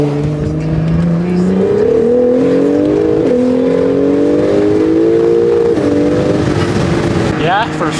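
A stock twin-turbo Acura NSX roaring as it accelerates hard, its engine note climbing steadily through the gears, loud and close, with a brief whoosh at the end.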